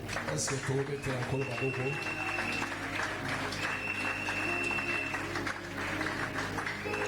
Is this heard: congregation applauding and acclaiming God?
yes